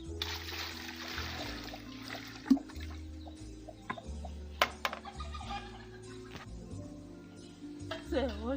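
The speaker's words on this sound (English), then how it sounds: "We add some water." Water is poured and sloshed over sweet potatoes being washed in an outdoor village kitchen in Kenya, with trickling, splashing and occasional sharp clinks of the tubers against a container, close and moderately loud, while a voice is heard at times.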